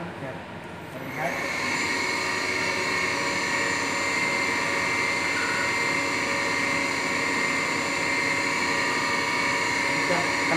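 A CNC lathe starting up and then running with a steady, loud mechanical whine and hum that holds constant throughout.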